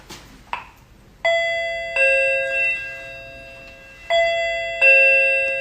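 Doorbell chimes sound four times in bright two-tone bursts, each ringing out and decaying, with a brief thump beforehand and no talking.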